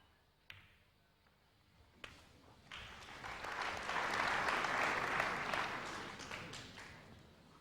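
Audience applause at a snooker final between Stephen Hendry and Steve Davis, swelling from a few sharp claps into sustained clapping that peaks midway and slowly tapers off.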